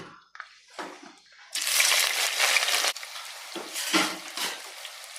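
Chopped onions dropped into hot oil with fenugreek seeds for a Kerala-style country chicken curry, a sudden loud sizzling hiss that settles into a steady crackle, with scattered clinks and stirring sounds before and after.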